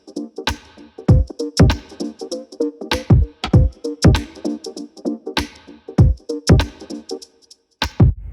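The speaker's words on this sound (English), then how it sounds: "I added a little shaker, some snaps, sampled kick, and some cross sticks" A dry percussion loop of shaker, finger snaps, deep kick and cross-stick clicks in a steady, syncopated groove, close and punchy.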